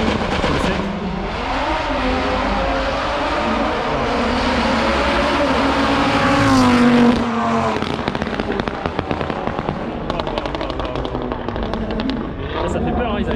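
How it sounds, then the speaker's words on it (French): Audi RS3 race cars charging up a hill climb course on Réunion, engines roaring loud and continuous with rising and falling revs, gear changes and crackling exhaust pops toward the end, a commentator's voice running over them. "on a la RS3 de Sautron qui affronte une voiture noire"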